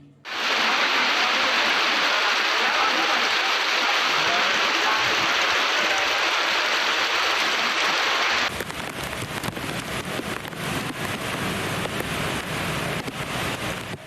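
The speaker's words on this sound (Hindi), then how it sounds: "इतनी झमाझम बारिश हो रही है" Heavy rain pours down in a dense, constant roar, close and loud, with the texture shifting partway through; no voices over it.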